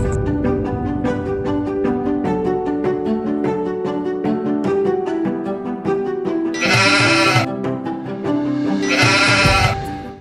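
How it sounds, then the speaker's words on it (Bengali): A goat eating a crop field in a rural Bangladeshi village bleats in loud repeated calls over a steady tonal background, with two sharp bursts near the end. "আরে দেখো ভাই কার ছাগল জানি খেত খাইতেছে"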